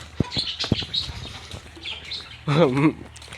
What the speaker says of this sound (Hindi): वो मुर्गी उठ के बाहर आके बो रही है